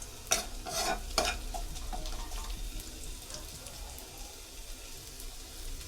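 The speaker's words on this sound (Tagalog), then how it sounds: "dahil mainit naman na, lagay natin tong garlic" Garlic frying in a hot pan at home before meat goes in, a low continuous sizzle opened by a few sharp clatters of stirring, with no speech over it.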